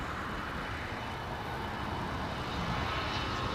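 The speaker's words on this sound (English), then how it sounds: "we got a CRJ taking off right now" A CRJ regional jet roars steadily on its takeoff roll at LAX, a loud, continuous broadband engine rumble that holds evenly throughout without any talk.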